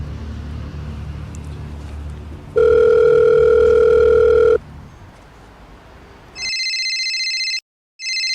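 A landline telephone rings loud and close in a steady electronic burst, then falls quiet, followed by a high electronic trilling tone that cuts off briefly and resumes, over low background rumble.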